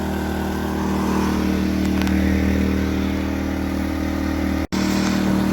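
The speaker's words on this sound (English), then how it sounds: "This is going to be a nice little generator." Predator 2000 inverter generator running, a loud, steady engine drone close by with a constant low hum, holding even throughout apart from one very brief dropout near the end.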